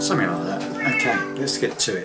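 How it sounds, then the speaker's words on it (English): A pet cat meows close by, several short, high cries that overlap a man's speech. "sorry about the cat"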